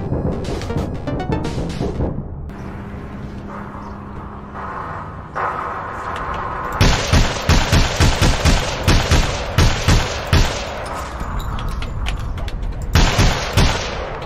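Gunfire from APB Reloaded, including sniper shots: sustained bursts of rapid, loud shots with heavy reports, partly overlapping, after a quieter stretch of scattered game sounds.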